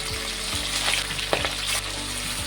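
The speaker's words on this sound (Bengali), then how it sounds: "মাছটাকে ভেজে নেব।" Salted, turmeric-coated rui fish fries in hot oil in a pan, a close, steady sizzle with light crackles and a brief scrape near the middle.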